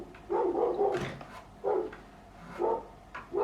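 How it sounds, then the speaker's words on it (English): A dog next door barks in four separate bursts of a few yaps each, moderately distant and fairly loud, with short quiet gaps between them. "That's next door's dog, I do apologise for that, though it's not my fault."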